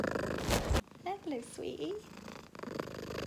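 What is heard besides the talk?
cat purring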